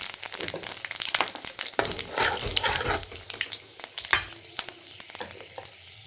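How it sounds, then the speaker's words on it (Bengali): Whole spices hit hot oil for tempering at the start of a Bengali taro and Bombay duck dish, giving a bright crackling sizzle with stirring clatter and scattered pops, close and moderately loud with no voices. "প্রথমে ফোড়ন দিয়ে দেবো"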